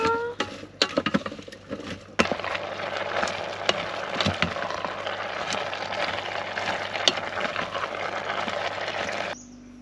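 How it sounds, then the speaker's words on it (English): Vegetables cook in a pan with leftover meat juices at a campsite at Stokes Inlet, Western Australia. A steady close sizzle crackles throughout, broken by sharp ticks and utensil scrapes, then cuts off abruptly near the end. "Just going to leave all the juice from the meat in there while I cook all the veggies."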